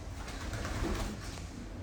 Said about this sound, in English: Ooh, there's a pigeon.